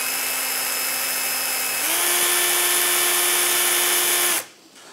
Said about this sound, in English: I'm going to drill a hole in the center where I want this to go